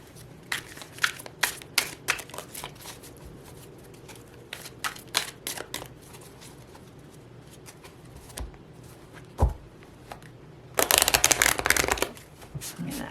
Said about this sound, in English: So let's pull some tarot cards.